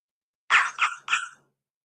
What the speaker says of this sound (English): it's working with the other flock dogs.